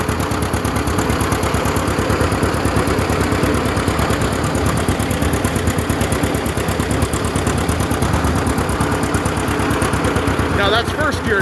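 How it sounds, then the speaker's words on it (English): A 1937 unstyled John Deere A tractor engine runs at full throttle on a cold day, a loud, steady, close-up chugging roar with rapid even firing pulses that continues throughout, with no voices heard over it. "Give her some juice, some throttle. That's full throttle."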